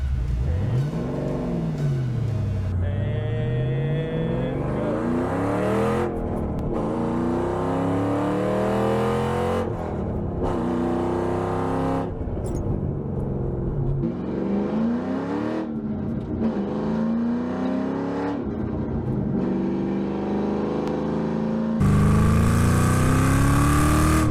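A cammed 2005 Mustang GT with exhaust cut-outs revs hard over and over, its loud V8 rising and falling in sweeping pitch swings, up close, with no talk.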